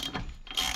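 A torque wrench ratchets in short clicking pulls while the rear wheel of a Yamaha TW200 motorcycle is tightened, with two close bursts of clicks split by a brief pause.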